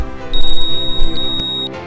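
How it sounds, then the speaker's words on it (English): Fruitron automatic fruit-ripening controller emitting a single long, thin electronic beep, a steady high tone held for over a second over room noise. "You'll hear a long beep."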